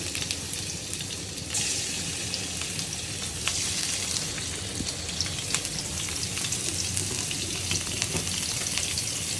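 Shrimp fry in hot oil in a wok for a water lily curry, giving a steady, loud sizzle with crackling bursts that runs unbroken throughout, with no talking.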